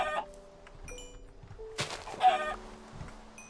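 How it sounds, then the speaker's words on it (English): Chickens in Minecraft cluck in short, separate bursts at close range, with no voices over them. "Chickens! I need your feathers."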